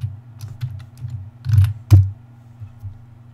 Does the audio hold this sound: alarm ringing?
no